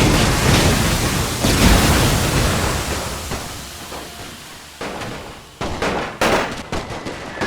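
Grenades and gunfire in The Great War 6.0 make a dense, roaring battle din, with a heavy blast early on and then a series of sharp, separate bangs and rattling shots toward the end, loud and close.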